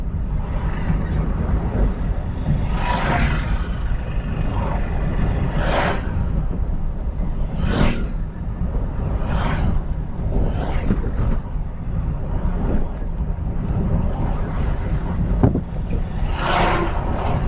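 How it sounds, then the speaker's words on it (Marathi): Vehicles stuck in a traffic jam on the Mumbai-Goa highway (NH66) near Pali: a loud, steady road and wind rumble with recurring whooshes of nearby traffic, no talking. "इथे जरा ट्रॅफिक ब्लॉक झालेलं दिसतंय."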